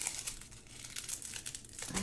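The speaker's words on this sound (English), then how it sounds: "I have tissue box, which is where I throw my plastic bags into, my little baggies into" Small plastic baggies crinkle and rustle steadily while being stuffed into a tissue box used as a bag bin at a diamond painting kit setup, a soft close crackle with no talking.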